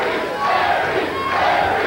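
A packed WWE Raw wrestling arena crowd roars and chants in a steady, dense wall of noise, swelling slightly mid-way with no single voice standing out.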